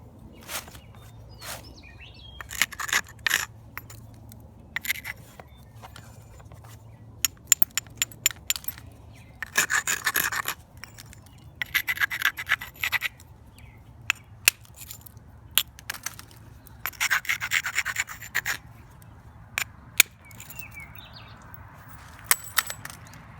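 A stone tip is trimmed with a soft sandstone hammer, giving repeated sharp, gritty clicks and crunchy taps in irregular bursts. The strikes are close up, with quiet pauses between groups.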